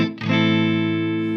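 A clean, crisp electric guitar is struck once after a brief scrape, and the chord then rings out bright and steady, fading only slightly.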